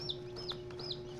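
Young chickens in a poultry pen, a small flock of gold-line chicks giving three faint, evenly spaced high chirps over a steady low hum.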